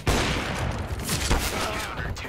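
Gunfire in CS:GO, a dense burst of rapid shots opening sharply and continuing as loud repeated fire through the short clip, with voices faintly mixed underneath.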